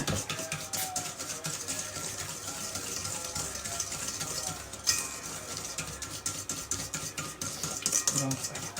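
A whisk stirs sugar and vanilla sugar in a bowl, giving a steady run of close scraping and clinking against the bowl sides throughout, with a couple of sharper knocks.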